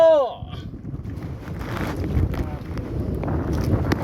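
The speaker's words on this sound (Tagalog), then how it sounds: "Malakas ang hangin." Strong wind buffets the microphone on a fishing trip with a steady low roar and gusty rumble, after a brief tonal whine at the start; no clear talk.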